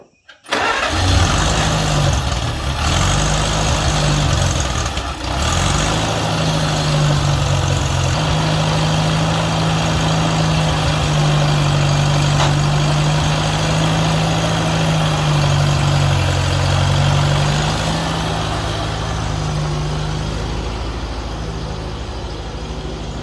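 A Farmall Cub tractor engine cranks and catches, then idles with a loud, steady, close putter that wavers slightly in speed over about twenty seconds before mowing a garden, with no talking.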